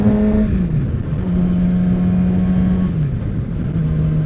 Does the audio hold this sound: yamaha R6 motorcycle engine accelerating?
yes